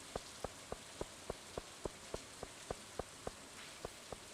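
Rain falls in the video game Stardew Valley as a soft, steady hiss, with faint, evenly spaced ticks tapping through it at a regular rhythm.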